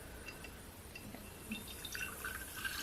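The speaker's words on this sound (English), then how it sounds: "all I'm going to do is pour it into my jar" Blueberry ginger shrub poured into a jar, a soft continuous liquid trickle with faint glassy drips, quiet and close.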